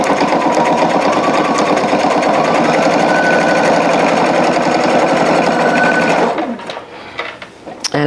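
Sewing machine stitching a narrow seam on a denim bucket hat made from jeans, a loud, continuous rapid clatter for about six seconds that then stops, followed by softer handling clicks.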